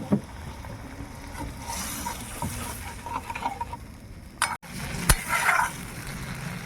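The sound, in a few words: water poured into frying curry masala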